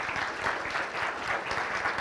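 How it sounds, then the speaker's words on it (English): An audience at a Django programming conference claps to welcome a speaker, a steady, moderately distant patter of many hands with no voices over it. "Let's give him a round of applause."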